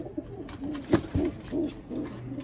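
A female pigeon coos softly at close range, a few short low throaty calls and rustles over a quiet background.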